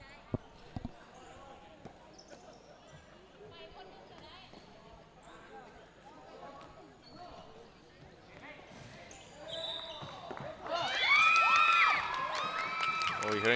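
Supporters of Team Laos, girls among them, cheer from the stands at a Southeast Asia tchoukball championship match, the crowd swelling loud near the end over a background of bouncing ball, squeaks and scattered voices across the court.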